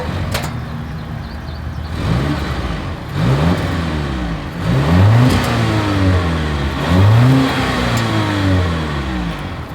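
A 2022 Volvo S90 sedan's engine and exhaust rev up several times from idle, each rise and fall loud and close, with a steady rumble between blips and no talking.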